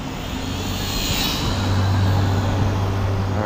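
A quadcopter drone flying outdoors with its motors throttling up through a turn, a steady whirring drone that swells and rises in pitch midway, continuous and fairly loud, with no talk.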